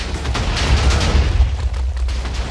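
Big rumbling blast in Minecraft, a dense roaring wall of noise with deep low boom and crackling debris that stays loud and sustained for the whole stretch.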